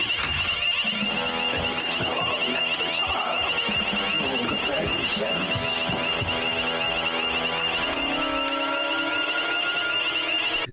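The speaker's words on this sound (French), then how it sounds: "Le fait de déclencher l'alarme" A shrill, steady electronic alarm rings continuously in a point-and-click video game, loud and unbroken, with game sounds and a voice talking over it.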